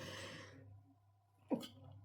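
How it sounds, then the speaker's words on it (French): A single sharp sneeze bursts out close by in a quiet room near the end. Soft, fading speech from one person comes just before it. "j'ai éternué"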